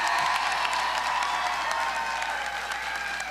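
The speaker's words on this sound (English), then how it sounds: "Let's give them a round of applause." Sustained applause from a crowd at a political event with Governor Cuomo in New York, many hands clapping densely and evenly, with faint cheering mixed into a steady wash.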